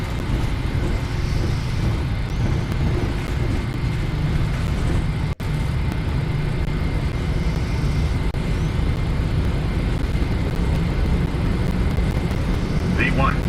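Twin jet engines of a Boeing 737-900ER at takeoff thrust, a loud steady broadband roar with a strong low rumble that holds constant from start to finish, heard from inside the aircraft cabin or cockpit.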